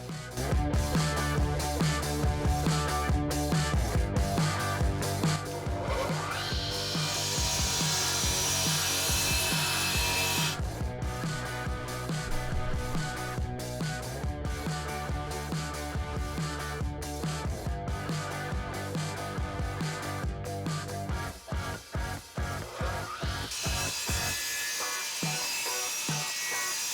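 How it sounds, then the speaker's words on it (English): A radial arm saw runs loud and continuous as it makes a shallow cut right across the face of a sacrificial wood board, a steady whining drone with a rasping bite that rises partway through and again near the end. "make one shallow cut right across the face of the sacrificial board"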